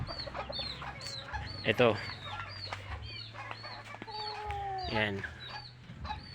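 Backyard chickens clucking close by, with scattered calls, a brief flurry of wing flapping and a steady low background hum, while a person talks quietly now and then.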